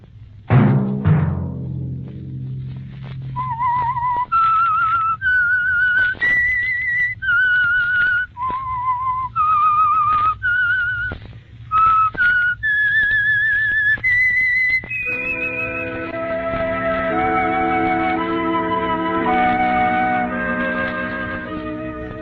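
A clear whistled melody of sustained, sliding notes carries alone, then gives way to a fuller sustained musical passage near the end.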